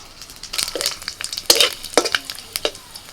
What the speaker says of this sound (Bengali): কড়াতে ফোড়নে দিচ্ছি তেজপাতা বড় এলাচ ছোট এলাচ দারচিনি লবঙ্গ আর হচ্ছে গোটা জিরে